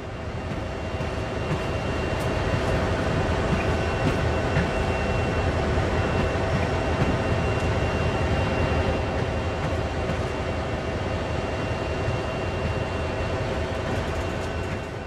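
A train in the Train Sim World 2020 video game coasts along with a steady, loud rumble of wheels and rail, holding an even drone for the whole stretch with no voices.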